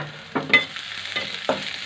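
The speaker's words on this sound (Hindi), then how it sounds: "लगभग दो तीन मिनट तक फ्राई करना है अच्छे से।" Chopped spring onion, ginger, carrot and red and green capsicum fry in a pan for veg manchurian, a short close sizzle broken by a few spoon scrapes and clicks, no talking.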